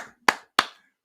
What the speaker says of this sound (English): Gotta applaud you, buddy.